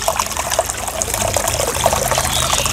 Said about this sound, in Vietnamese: Các bạn có nghe được cái tiếng suối chảy không các bạn?